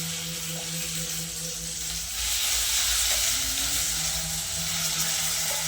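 Onions fry in a pan in a home kitchen, giving a steady close sizzle with occasional stirring, briefly swelling louder midway, with no one speaking.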